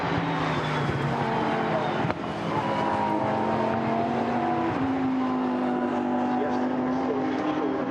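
A Lamborghini Super Trofeo race car at Silverstone during Race 1 of the 2019 European series drones loudly with a sustained engine note that climbs and shifts pitch as it passes through the circuit.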